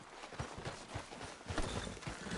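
Horse hooves clip-clop at a steady walking rhythm in Red Dead Redemption 2, close and moderately loud, with even repeated footfalls and no voices over them.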